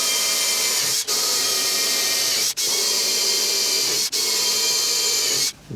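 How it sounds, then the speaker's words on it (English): Steady high-pitched whine of a drill boring 8mm holes through aluminium skin, loud and continuous, broken by three brief pauses as the bit moves between holes before stopping near the end. "Start to drill these 8mm holes through the aluminium skin on the other side"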